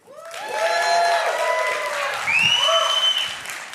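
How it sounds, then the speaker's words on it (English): An audience at a live stage event breaks into loud, sustained applause with some cheering, clapping steadily throughout. "Everybody give a big round of applause for Caleb."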